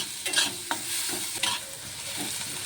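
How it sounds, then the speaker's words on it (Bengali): Garlic paste and onion stirred and fried together in a pan for a spicy teasel gourd curry, a bright continuous sizzle with a few soft scraping stirs, close and fairly loud, no voices. "রসুনটিকে দিয়েও পেঁয়াজের সাথে একটু নেড়ে চেড়ে নেব"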